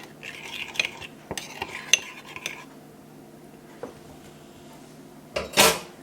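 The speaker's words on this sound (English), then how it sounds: "I'm just going to give this a little mix" Seasoning being mixed into food in a bowl, with a run of close utensil clinks and scrapes against the dish early on, a quieter pause, then a sharper rustle near the end.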